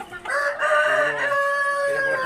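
A rooster crows close by on a hillside farm raising indigenous hill chickens, one clear drawn-out call lasting about two seconds.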